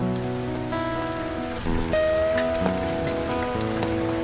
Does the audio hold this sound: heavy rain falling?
yes